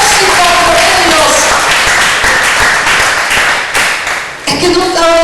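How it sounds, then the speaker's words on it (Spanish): A church congregation claps loudly and continuously, with a voice calling out over the applause and a short dip before the clapping resumes. "dale fuerte el aplauso al Señor"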